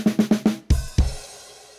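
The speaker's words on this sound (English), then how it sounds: "So I'm using my left hand on the hi-hat so that I can come back with a full powered right hand on the crash" Drum kit fill: four quick hi-hat strokes played with the left hand, a brief gap, then two loud full-powered crash cymbal hits from the right hand that ring and decay alone.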